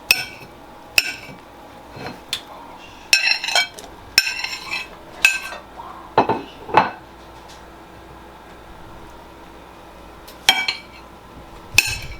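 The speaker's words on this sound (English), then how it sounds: "Swipe it right into the pan." Steak and baby bella mushrooms are swiped into a pan with a metal utensil, giving scattered clinks, taps and short scrapes against the cookware in uneven bursts, close and clear with quiet gaps between.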